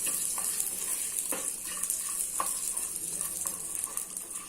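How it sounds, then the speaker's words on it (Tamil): Raisins fry in a hot pan for carrot halwa, giving a bright, steady hiss with a few soft stirring knocks spaced about a second apart, close and even throughout. "இப்ப நம்ம திராட்சையை போடலாம். அதையும் நல்லா நம்ம வறுத்துக்கலாம்."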